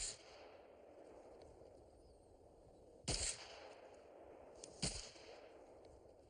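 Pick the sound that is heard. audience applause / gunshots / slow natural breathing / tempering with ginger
gunshots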